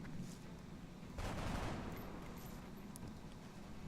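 A gunshot rings out in the video game XCOM Long War as a loud, sharp burst of fire that decays over a second or two into a lingering rumble.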